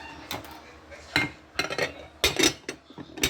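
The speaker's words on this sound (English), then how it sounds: "Now I got dishes to wash here." Dishes and cutlery clatter and clink in a home kitchen while rib sauce is being made, with several sharp, close clanks spread unevenly over a few seconds and short pauses between them.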